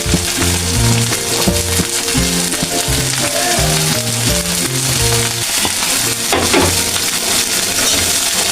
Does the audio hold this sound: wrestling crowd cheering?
no